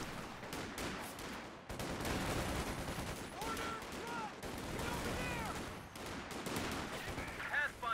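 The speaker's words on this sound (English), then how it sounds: "Volley fire saved his life that day." Volley fire crackles in Company of Heroes during a 4v4 match on the Road to Arnhem map: dense, overlapping rifle shots in loud continuous bursts, broken by one short pause.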